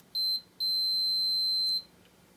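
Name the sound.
multimeter continuity beep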